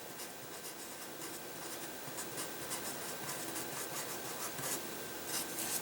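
Marker or chalk scratching out small writing on a classroom board during a calculus lesson, a steady run of short rubbing strokes with no talk over it.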